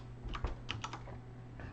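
Quick keystrokes on a computer keyboard, a few distinct taps followed by softer clicks, close and fairly quiet, with no voices.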